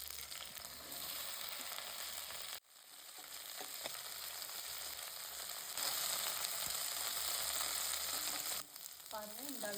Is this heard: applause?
no